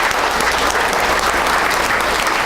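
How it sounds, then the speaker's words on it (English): A crowd at a State of the City address claps steadily and loudly throughout, a dense, continuous round of applause. "give them a round of applause"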